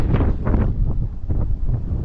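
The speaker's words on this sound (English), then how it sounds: "Windy." Strong winter wind gusts on a farm in subzero temperatures buffet the microphone with a steady, low roaring rumble that swells and eases, with no voices.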